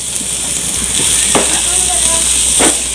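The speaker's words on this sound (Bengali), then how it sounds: "আমি এই তেলের মধ্যেই হাফ কাপ পেঁয়াজ ভালো করে একটু ভেজে নিব।" Half a cup of onion frying in hot oil left from frying chilies, a steady soft sizzle with brief stirring scrapes, close by and fairly loud.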